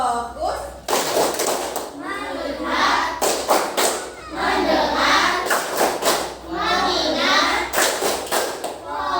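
A classroom of fourth-grade children does a tepuk fokus rhythmic clapping game, sharp unison claps falling in steady patterned bursts between loud group chanting, with close, bright hand slaps throughout.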